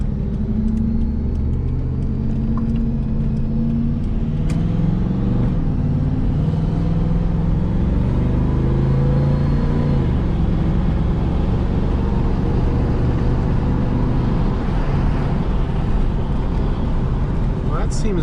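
A 1984 Camaro Z28 driving steadily on a test drive, its engine a loud continuous rumble, with rising and falling pitch sweeps as the transmission shifts through gears.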